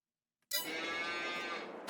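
Cattle lowing in the Farming Simulator 22 game, one long sustained moo that starts abruptly after a short silence and holds steady and clear near the listener until the end.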